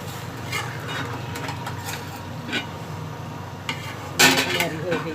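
Chicken jalfrezi is stirred in a pan with a utensil, giving repeated clinks and scrapes against metal, including a louder burst of clatter near the end, under a steady background hum.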